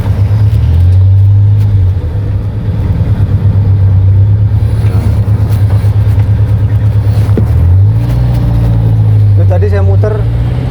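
A 1983 Suzuki Jimny converted for extreme off-roading drones loudly while driving, its engine a steady rough hum that rises in pitch around two revs as it accelerates, with a voice talking over the cabin noise.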